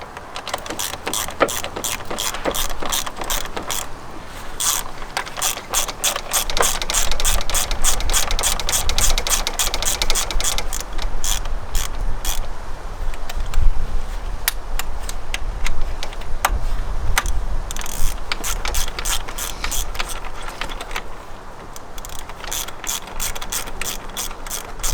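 Ratchet tightening a bolt on the N55 oil filter housing of an E70 BMW X5, with rapid close clicking pawl strokes in steady bursts throughout, with no talk.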